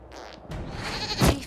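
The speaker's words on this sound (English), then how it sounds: "we discovered this man attacking the building with a" A goat bleats in the fantasy video game Dragon Age: Inquisition, with one loud, strained cry near the end rising over an ambient game soundscape.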